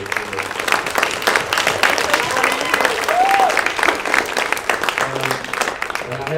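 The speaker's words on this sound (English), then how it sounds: "I just want to give her a big round of applause" Crowd applause fills the room at a high school sports banquet, steady dense clapping sustained for several seconds with murmuring voices and a brief whistle-like tone in the middle.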